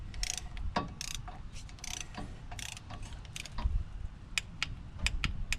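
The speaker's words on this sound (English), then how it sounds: "Then you'll need a torque wrench and set it to 89 inch-pounds." Torque wrench tightening a front brake caliper bolt on a 2015-2022 GMC Canyon or Chevy Colorado, giving a series of quick metallic ratcheting clicks over low shop noise, close up.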